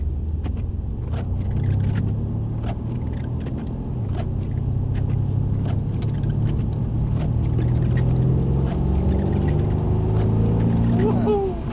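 A Mercedes-AMG car engine rumbles steadily at low pitch while the car brakes and slows, the deep drone continuous and close throughout.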